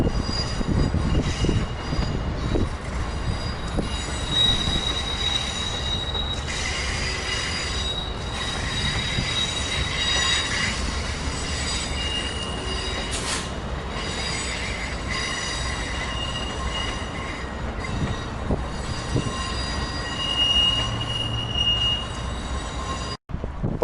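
Two ACS-64 electric locomotives double-heading a passenger train out of Philadelphia's 30th Street Station, with steady rail rumble and repeated high wheel squeals running throughout, close and loud.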